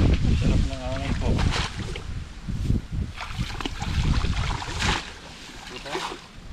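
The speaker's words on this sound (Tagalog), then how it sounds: "Sarap ng hangin po." Steady wind rushes and buffets across a river on a warm day, a continuous near breeze with water lapping faintly beneath, while a voice talks briefly early on.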